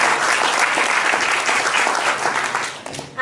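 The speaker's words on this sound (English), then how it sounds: "Big round of applause for" A big round of audience applause at a volunteer appreciation event, dense and sustained clapping from a crowd that fades slightly near the end.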